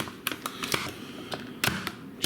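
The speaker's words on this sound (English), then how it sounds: "Chopping up the ham is not as easy as you think." Knife chopping ham finely on a cutting board: a quick irregular series of sharp close taps and thuds, some in quick pairs, with no talking.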